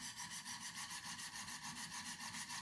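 A knife blade is scrubbed back and forth on a 200 grit sharpening stone, producing a steady rhythmic rasping swish with about a dozen even strokes, close and fairly quiet, with no talk.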